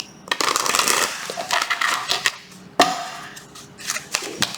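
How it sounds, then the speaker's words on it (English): A deck of tarot cards being shuffled by hand, a series of quick riffling and slapping bursts with sharp taps between them, close and fairly loud. "Last shuffle."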